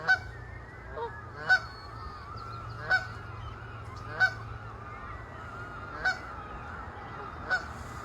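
Geese honk in a series of loud, evenly spaced calls, one roughly every second and a half, over a steady low outdoor rumble where seagulls are nest building and geese are out with goslings.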